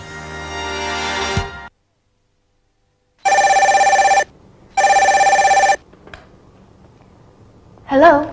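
An office telephone rings with two loud, evenly spaced electronic bursts after a pause, followed by brief quiet and a short voice at the end.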